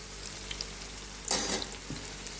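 Snacks fry in hot oil with a steady low sizzle throughout, broken by a brief louder crackling burst as the pieces are stirred, with no talking.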